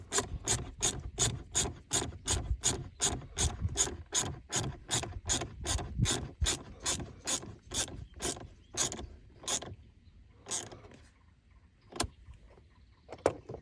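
A ratchet runs in a supplied bolt on a CMM Offroad accessory mount for a Jeep JL/JT, with close, rapid, evenly spaced clicks that slow and thin out as the bolt tightens.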